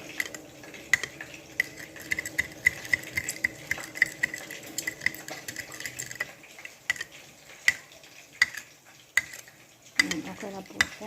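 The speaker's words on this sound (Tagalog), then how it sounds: "Mix po natin lahat siya." Sweet and sour chicken stirred in a pan, with rhythmic scraping and tapping of a utensil against the pan at regular intervals over a faint sizzle, close and clear, with no talking.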